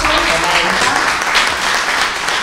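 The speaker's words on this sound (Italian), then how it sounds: "E un applauso" Sustained applause from an audience at a local history talk about the 1943 Gustav Line battle at Ortona, dense and steady, with some voices faintly mixed in.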